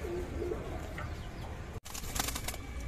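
Pigeons coo softly in a loft where the female birds are kept, a few low murmuring calls against steady background noise, with a brief dropout partway through and no talking.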